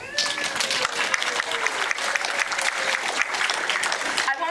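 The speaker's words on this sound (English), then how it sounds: "Please, round of applause for Assemblyman Jeff Gurrell." An audience at a community awards ceremony applauds Assemblyman Jeff Gurrell, with steady, dense clapping that holds loud and continuous throughout, with no voices rising above it.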